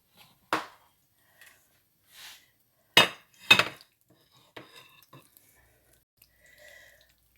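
A heavy pan of cauliflower mac and cheese tipped into a baking dish, heard as a few sharp, close clunks and scrapes separated by quiet gaps.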